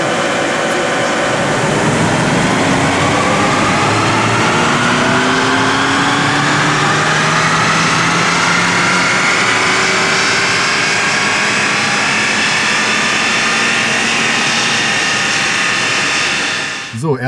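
A Volkswagen Golf engine runs at full power on a dynamometer, a loud sustained roar with rising tones as revs climb steadily over about sixteen seconds before cutting off abruptly at the end.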